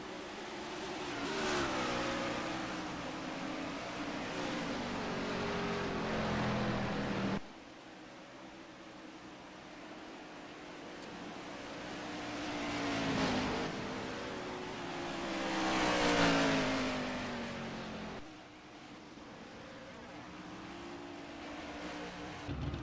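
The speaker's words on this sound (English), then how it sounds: "CH Van's doing burnouts." A car doing burnouts at Pikes Peak in a racing game, its engine surging and revving in rising and falling waves with rough tire noise, and a sharp cut partway through; no talk.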